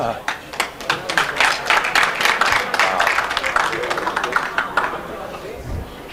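Scattered clapping from a crowd at a one pocket pool match, a burst of many hands applauding that gradually thins out, with people talking over it.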